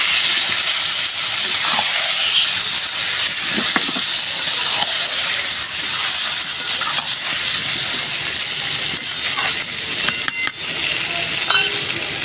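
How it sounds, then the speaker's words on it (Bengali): Chicken being sautéed in oil in a pan for a home-style chicken curry, with a steady, loud sizzle and hiss running throughout and a few brief stirring clinks and scrapes near the end. "এবার আমি ভালো করে এটা কষবো।"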